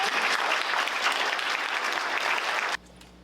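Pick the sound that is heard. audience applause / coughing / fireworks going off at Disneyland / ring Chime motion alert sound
audience applause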